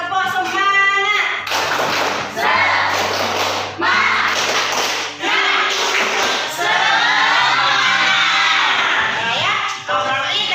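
Schoolchildren in a classroom perform a tepuk semangat clapping chant, their voices calling out in bursts between sharp rhythmic rounds of clapping and thumps, loud and close throughout.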